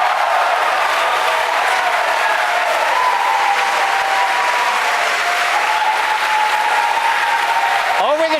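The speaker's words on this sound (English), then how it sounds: "Over the cheering in the background" Cheering and applause from a large crowd gathered at SpaceX during a late-night Falcon Heavy launch, a loud, sustained roar that never lets up, with a brief whistle-like sweep near the end.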